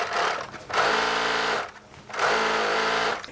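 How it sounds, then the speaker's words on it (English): A serger overlocks the edge of a fabric seam in two loud, fast, whirring runs, each about a second long, with a brief pause between them, close up. "I'm just going to serge this outer edge to seam finish that so we can press open this seam"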